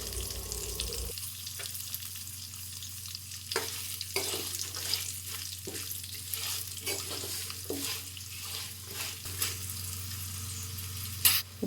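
Pulihora being stirred in a pan with a fried cumin and fenugreek mixture, a continuous sizzle with repeated spatula scrapes and clinks at an irregular pace.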